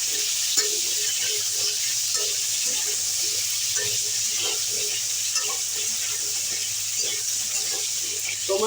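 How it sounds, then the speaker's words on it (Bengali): Pumpkin pieces frying in a pan for a vegetarian lau shak chorchori, giving a loud, dense, continuous sizzle close up, with faint stirring scrapes underneath. "এবার কুমড়োগুলোকে একটু ভেজে নিচ্ছি।"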